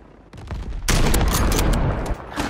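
Gunfire in Warzone 3, from a player's sniper rifle: a loud, dense burst of shots starts after a short quieter lead-in and keeps going, with the crack of the shots spread through the sound.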